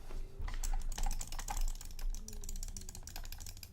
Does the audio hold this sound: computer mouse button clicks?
yes